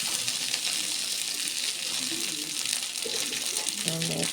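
Water splashed into a hot pan of dried red chillies, curry leaves and turmeric powder, a hissing, sizzling pour throughout while someone talks underneath.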